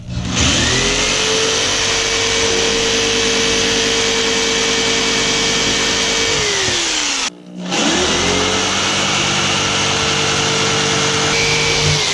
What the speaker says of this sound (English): You really don't need a jigsaw to do that